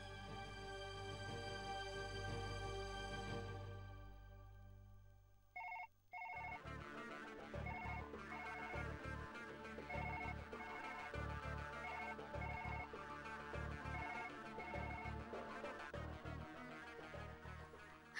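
A telephone rings during a call to an office, starting with a long sustained electronic tone, then after a brief gap turning into a busy, rhythmic ringtone melody that repeats steadily, loud and close.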